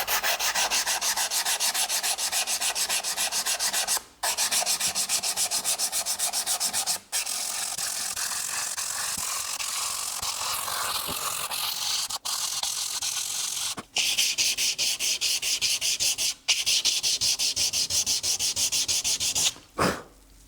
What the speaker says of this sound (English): now I just hit every fret with a 220 grit sandpaper to remove the scratches from the 150 grit